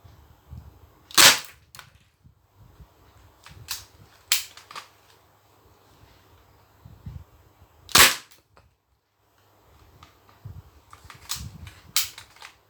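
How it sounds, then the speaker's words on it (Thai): A Thompson gun fires at a target, about seven loud, sharp single shots spaced irregularly with quiet gaps between them and no talking. "เดี๋ยวเราลองยิงให้หมดไปกกันเลยนะ ผมจะยิงให้โดนตรงเป้าตรงกลางนะครับ"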